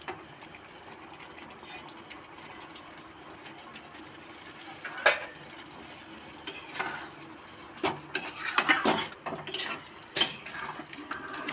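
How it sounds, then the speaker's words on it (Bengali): Chhana (cottage cheese) going into a vegetarian curry in a pan, with a metal spoon scraping and clinking as it is stirred, faint sizzling underneath and several louder knocks against the pan. "এই ছানাটা এবার এর মধ্যে দিয়ে দেবো"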